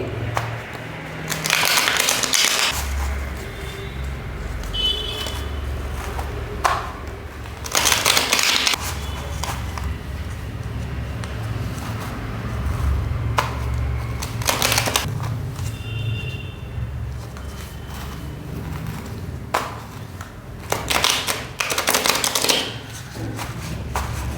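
Tarot cards shuffled by hand in steady bursts of riffling and soft slapping, fairly close, over a low constant background hum, with no talking.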